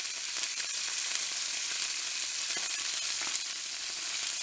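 Food searing in a hot pan gives a loud, steady, continuous sizzle with no voices over it.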